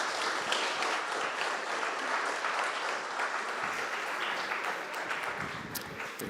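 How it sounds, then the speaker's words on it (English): Audience applause welcoming two speakers at a leadership talk event, a dense, steady clapping from a crowd that holds at an even level throughout. "So please give a round of applause to welcome Mr. Sayegh and Peter Vanham."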